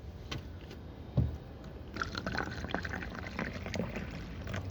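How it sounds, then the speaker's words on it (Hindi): Water splashes steadily into a glass of Magic Moments green apple vodka, a continuous close hissing pour that starts after a few light clinks and keeps running to the end. "तो हम तो मिलाते हैं पानी"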